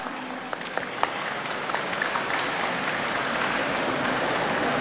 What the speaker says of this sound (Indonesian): Kita berikan tepuk tangan rekan-rekan mahasiswa semua.